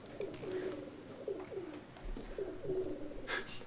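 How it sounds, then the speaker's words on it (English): A pigeon outside a window cooing repeatedly in soft, low, rhythmic phrases, close by, with faint background noise. "There's a pigeon outside my window."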